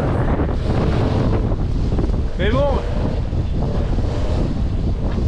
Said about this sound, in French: il y a encore plus de vent ici que au large